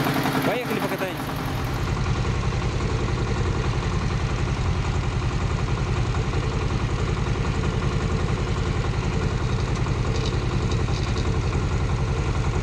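Scout T-18 mini tractor engine running steadily while driving through snow, a continuous loud mid-low drone with a brief rough start and no talk over it.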